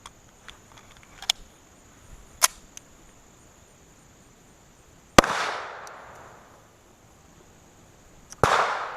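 Two loud, sharp .45 ACP +P pistol shots ring out several seconds apart, each with a trailing echo, while faint clicks and handling noises come before them in a quiet outdoor setting.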